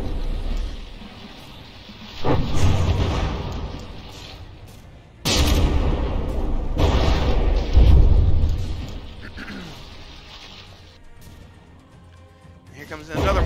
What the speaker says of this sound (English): Here comes another mortar strike.